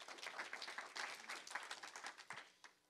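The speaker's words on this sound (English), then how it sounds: "round of applause for them" An audience at a tech community event claps in a dense round of applause, close and lively, with many overlapping hand claps that taper off toward the end.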